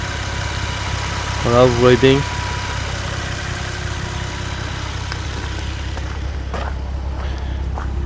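A 2009 Nissan 370Z idling with the hood open: a low, steady and fairly quiet engine hum runs throughout while someone talks briefly near the start.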